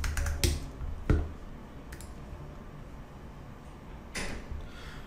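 A computer keyboard taps out a search query in a few scattered, quiet clicks and short bursts of keystrokes, with long pauses between them in an otherwise still room.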